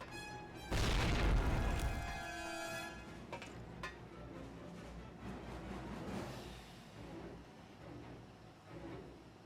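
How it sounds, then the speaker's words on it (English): A grenade goes off in Call of Duty: one loud, close boom with a sharp onset, then a rumbling tail that fades into scattered debris and ambient battlefield noise. "That was a grenade."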